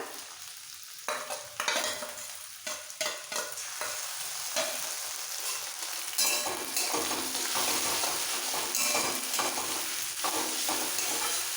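Poppy seed paste and green chilli paste frying with onions in a pan, stirred with a spatula: scraping strokes and a steady moist sizzle that grows fuller and continuous, close and moderately loud, no voices.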